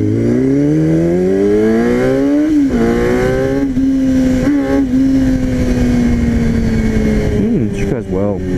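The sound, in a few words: motorcycle riding and accelerating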